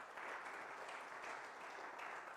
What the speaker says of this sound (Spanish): Denle un fuerte aplauso al Señor en acción de gracias.